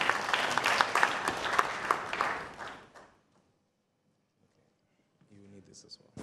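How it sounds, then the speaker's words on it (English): A crowd at an engineering institute event applauds the arrival of an engineer, dense clapping for about three seconds that fades into near silence before a voice begins speaking. "Please join me with a loud round of applause as we welcome him."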